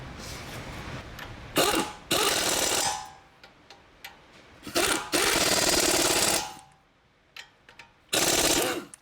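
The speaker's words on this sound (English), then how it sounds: "Once they're started, you can impact them in." An impact wrench drives caliper bolts on a Chrysler Town & Country during front wheel bearing work, firing in four sharp, loud rattling bursts separated by short pauses.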